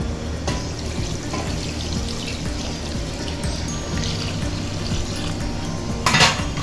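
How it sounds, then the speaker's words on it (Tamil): Water splashes and trickles steadily into a wet grinder over a low mechanical hum, with a brighter gush near the end. "அதையும் இது அப்படியே ஃபுல்லாக இவ்வளோ தண்ணி ஊற்றணும்"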